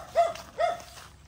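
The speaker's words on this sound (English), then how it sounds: "Stop barking, you little dog." A small dog on a mango farm in the Batangas hills barks twice in quick succession, sharp, fairly near and alone, with a short pause between the yaps.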